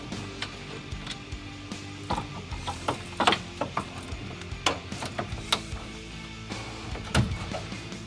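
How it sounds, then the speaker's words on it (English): A screw is worked out of the dash light switch on a Jeep YJ, giving close, irregular ratcheting clicks and small mechanical knocks over several seconds. "I'm just gonna remove this screw."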